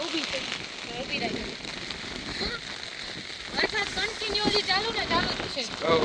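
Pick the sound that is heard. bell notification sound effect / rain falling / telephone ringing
rain falling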